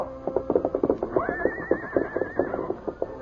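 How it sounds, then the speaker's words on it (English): A paint horse whinnies loudly in a long, wavering neigh that rises and holds, set against rhythmic thumping of the horse rearing and pawing the ground nearby. "Scout continued to whinny, rear, and paw the ground"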